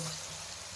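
Paneer sautés in a hot pan with a soft, steady frying sizzle, close and continuous for a brief moment.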